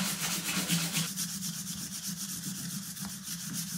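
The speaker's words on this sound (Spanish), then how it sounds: "al lijar, como mi paragüero tiene rombitos, estoy sacando los rombitos" Sandpaper rubs back and forth over a brass umbrella stand with a diamond-pattern surface, a steady, close scratchy sanding that continues without pause under a low hum.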